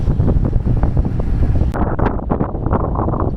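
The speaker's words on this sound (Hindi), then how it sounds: "बहुत तेज हवा चल रही है" Strong wind blasts high above the Devprayag confluence, where the Alaknanda and Bhagirathi rivers meet. Loud, continuous buffeting and rumbling batter the microphone throughout, with a sharp knock midway and no voices.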